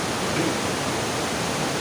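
Floodwater of the Poonch river in heavy spate rushes past in a steady, loud, broadband roar with no pauses and no voices over it.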